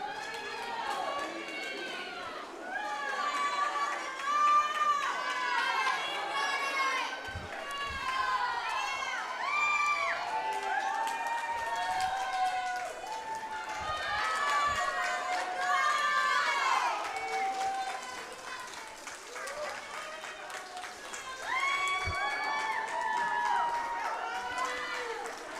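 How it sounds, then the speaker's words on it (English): Teammates cheer and shout for a swimmer during a high school swim meet, a dense crowd of voices rising and falling continuously through the race, with excited chatter mixed in. "Teammates cheering her on."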